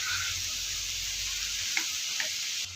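Banana stem with prawns stir-frying in a pan, a steady close hissing sizzle with a couple of light stirring clinks near the end.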